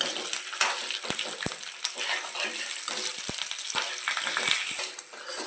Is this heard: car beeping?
no